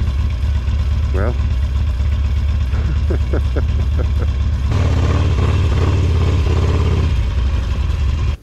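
An off-road vehicle's engine holds a steady, loud throttle while climbing a steep, soft mountain trail in Colorado, with a brief rise in revs near the end. People talk over the engine throughout.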